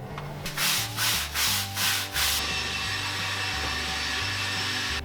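The bristle end of a broom with its stick removed scrubs a surface near a stormwater drain, giving several rhythmic rasping strokes up close before settling into a steady, continuous scrape.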